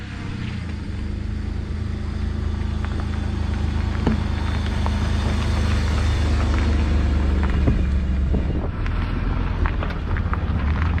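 A Holden VR ute fitted with a front-wheel-drive Pontiac engine drives on a test run, heard as a loud, steady low engine rumble mixed with road and wind noise throughout.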